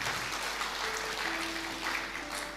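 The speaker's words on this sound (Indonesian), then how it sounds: "Tepuk tangan bagi Tuhan kita." Congregation applause in church during a Christmas sermon at a GBI congregation, a dense steady wash of clapping throughout, with a faint tonal hum underneath.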